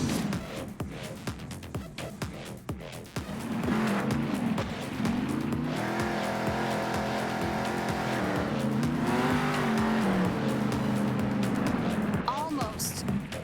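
A monster truck in the video game Monster Jam Steel Titans drives and brakes to a stop: a loud, steady engine drone swells and shifts pitch as it revs and slows, with a voice at the start.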